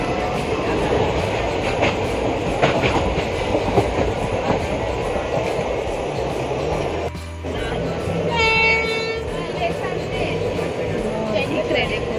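A passenger train runs steadily on the rails, a loud continuous rumble with faint rhythmic clacking and a brief horn-like tone, heard from inside the moving train.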